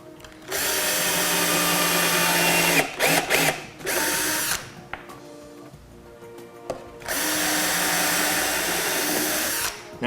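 A power drill drives screws into a birdhouse board in two loud, steady whirring bursts, with short starts and stops and a quiet pause between them.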